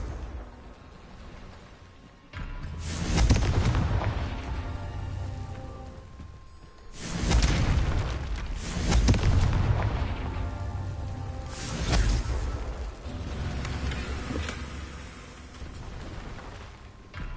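Confringo fire spell blasts in the Hogwarts Legacy video game, three separate explosive whooshing bursts with rumbling low-end impacts that fade into crackling debris, loud and close with no talking.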